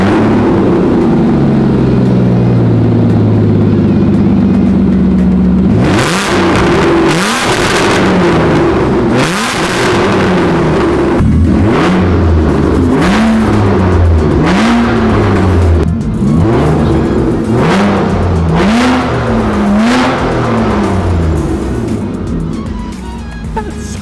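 A V12 Aston Martin with a new exhaust revs repeatedly, rising and falling in sharp bursts with a deep, loud exhaust roar up close.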